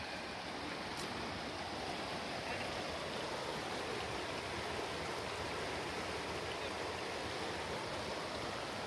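A river rushes through a canyon along a road near St. Elmo, a steady broadband roar of flowing water, continuous and close, with no voices over it.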